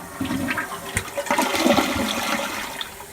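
A newly installed toilet flushes with a steady rushing and gurgling swirl of water, close and fairly loud, with no talking over it.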